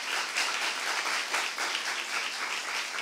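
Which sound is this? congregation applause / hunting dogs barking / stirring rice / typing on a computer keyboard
congregation applause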